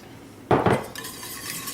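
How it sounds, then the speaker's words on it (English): A spatula scrapes heavy cream from a container into a pan, giving a short clattering burst of utensil against the vessel followed by a quieter scrape. "I need a spatula to make sure we get all of that heavy cream out of there"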